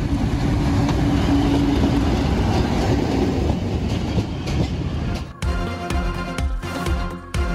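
A train rolls past at Golra railway station, a tree-surrounded stop, with a steady loud rumble that gives way to rhythmic clickety-clack of wheels over rail joints, no voices present.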